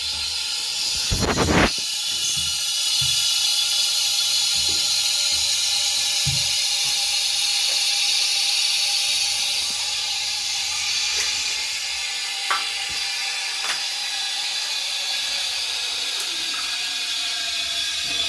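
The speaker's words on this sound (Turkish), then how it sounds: "Şu an depomuzun suyunu açabiliriz." A toilet cistern refills through a newly installed Eca inner flush mechanism once the water supply is opened, giving a steady close hiss and rush of water that runs on throughout, with a few small clicks and knocks.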